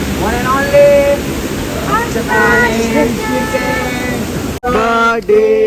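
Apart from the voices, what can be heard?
indoor waterfall water feature running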